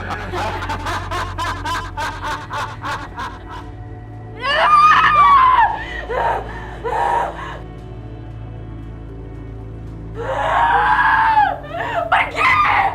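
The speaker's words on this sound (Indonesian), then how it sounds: "Kalau Mama teriak-teriak terus nanti Mama sakit" A woman screams in long, strained cries in two loud bursts, with stretches of shrill, snicker-like gasping between them. Quieter rhythmic vocal sounds come before the screams.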